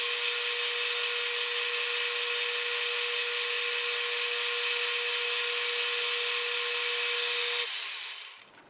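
A metal lathe takes a light finishing cut on a spindle spider, giving a steady whining hum with a high, even tone that holds for about eight seconds before it tails off and fades out.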